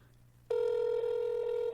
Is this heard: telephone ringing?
yes